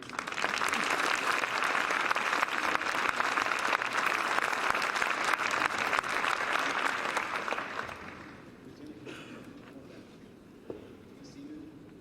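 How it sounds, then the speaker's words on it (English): A school crowd applauds veterans and active service members at a ceremony, thick sustained clapping for about eight seconds before it fades out, leaving quiet room sound with a faint voice and a small knock near the end. "one more round of applause for all of our veterans and active service members"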